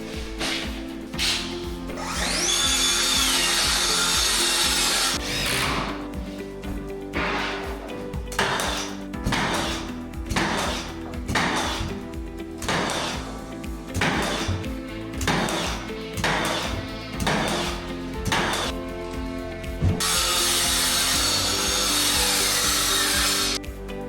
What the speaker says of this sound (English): we measure the exact height we need and custom cut the base of the wardrobe